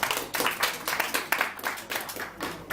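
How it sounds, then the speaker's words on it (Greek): An audience applauds together, a dense clatter of many hands that swells in repeated waves and stays fairly loud and close for a few seconds, with no talking over it. "Ένα χειροκρότημα σε εσάς."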